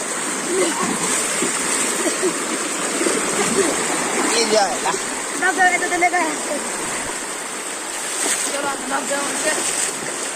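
Rushing floodwater after heavy rain in Solapur pours and splashes steadily like a waterfall, loud and close, while people shout and talk over the roar.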